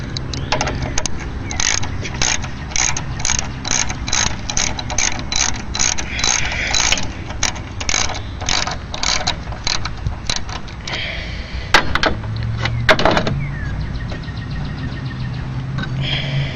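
Ratchet wrench loosening a bolt on a car during a xenon HID headlight conversion kit install, with a long run of rapid, loud clicking strokes up close, then a few clunks of the bolt coming free.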